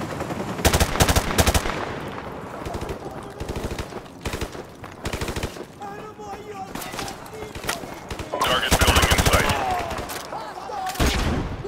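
Automatic gunfire and bursts of shots from the game Modern Warfare Remastered, loud and repeated throughout, with heavy flurries near the start and again near the end, mixed with excited talk over the action.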